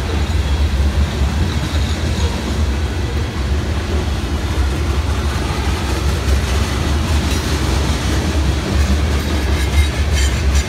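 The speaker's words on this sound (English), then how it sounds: "It's a heavy train." A long, heavy CSX freight train of loaded cars with three distributed power units rumbles past close by. Its deep roar is steady and continuous, with wheel noise and rattling throughout.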